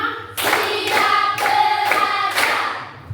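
Pupils in a classroom clap together in time, a run of five crisp, loud unison claps spaced evenly, with a faint voice underneath at the start.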